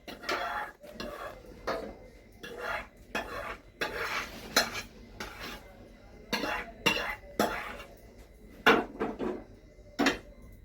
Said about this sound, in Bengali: এবার এটাকে ভালো করে এইভাবে নাড়িয়ে দিলেই এটা সমানভাবে বসে যাবে।